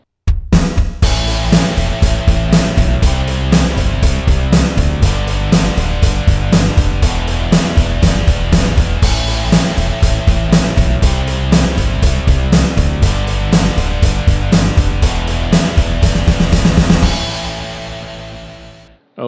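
Electric guitar power chords for rock and metal backed by a driving drum kit and bass, a loud, steady full-band groove with sharp regular drum hits that rings out at the end.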